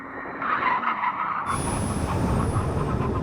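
A McLaren, Ferrari, Porsche or Lamborghini supercar making a full emergency stop, tyres skidding and scrubbing loudly across tarmac, the squeal starting sharply partway through and holding steady to the end.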